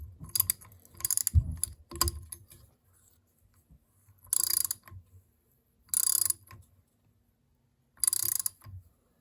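A socket ratchet turns on the head of a Kawasaki KZ750 engine while stripped spark plug threads are repaired, giving several close bursts of rapid metallic clicking separated by short pauses, with lower handling thumps at the start.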